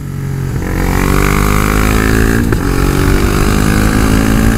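A motorcycle engine accelerates on a mountain road toward Pedra do Baú, with a loud, steady near exhaust note whose pitch climbs smoothly after a brief dip early on and holds strong throughout.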